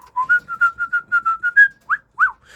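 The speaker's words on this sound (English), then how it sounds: "literally you just whistle in front of them" A person whistles a quick run of short, bright notes in a steady rhythm, ending with two separate swooping notes, close and clear with no talking.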